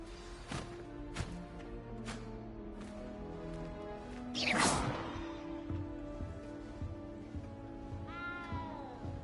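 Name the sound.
cat meowing in a video game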